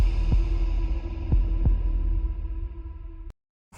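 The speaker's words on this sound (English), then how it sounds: "That heartbeat at the end still gets me." Loud, deep heartbeat thumps from the trailer of the Kenyan film 40 Sticks, three spaced beats over a sustained low drone that cuts abruptly to silence near the end.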